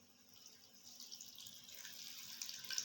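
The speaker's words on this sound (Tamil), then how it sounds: "புளி தண்ணி ஊற்றிக்கலாம்" Tamarind water pours steadily into a pot of fish curry, a soft, close splashing trickle that grows slightly louder as it goes.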